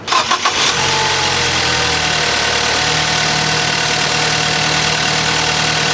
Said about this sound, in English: I want to see what the engine sounds like with the stock filter in it